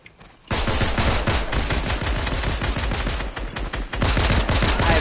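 Fortnite gunfire: a loud, sustained burst of rapid automatic shots starting abruptly after a brief quiet moment, continuing steadily with a slight dip before intensifying again.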